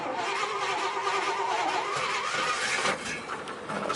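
A car engine cranks and catches roughly, a rough, noisy start that holds steady for a few seconds and then dips briefly near the end; no talking.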